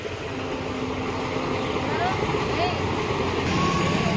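A train passes by, making a steady, loud, broadband rumble that fills the whole stretch without pause and grows a little more intense toward the end.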